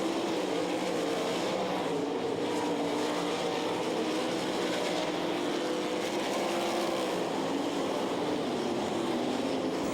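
Sprint cars race around a dirt track, a continuous dense roar of engines droning at a distance without letting up.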